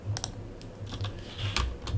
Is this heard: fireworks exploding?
no